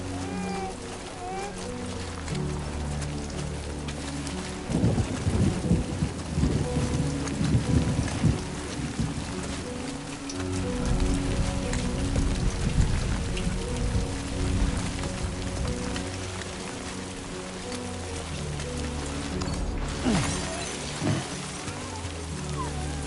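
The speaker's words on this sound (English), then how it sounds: "Rain." Rain falls steadily in Death Stranding 2, a continuous hiss with rumbling low swells that suggest distant thunder, and the intensity builds in the middle before easing.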